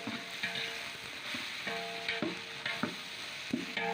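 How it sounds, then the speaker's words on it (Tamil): Onions sautéing with ginger garlic paste and chopped coriander in a pan for biryani, a gentle close sizzle broken by repeated spoon scrapes and clinks at an uneven rhythm. "நெக்ஸ்ட்டு இதெல்லாம் வதக்கி விட்டுக்கலாம் அதாவது ஆனியன் வந்து நல்லா ப்ரௌன் கலரில் மாறுற வரைக்கும் வதங்கணும்"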